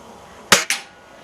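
Two quick sharp pops close together from a CYMA M1 Carbine airsoft rifle, loud and crisp against a quiet background.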